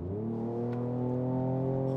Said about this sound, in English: you can change the exhaust. So I am on normal right now. I can put it in sport and then pop it into Baja